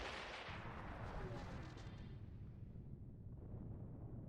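Booming cannon fire in Star Wars: The Old Republic, a dense low rumble of blasts sustained throughout, steady and loud without breaks, fading slightly toward the end with no speech over it.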